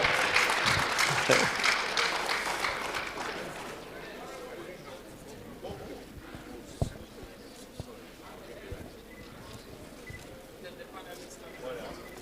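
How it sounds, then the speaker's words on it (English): Audience applause at a teachers' certificate award ceremony, strong clapping at first that fades over a few seconds, followed by a quieter room with a voice speaking over it. "A round of applause for them, ladies and gentlemen"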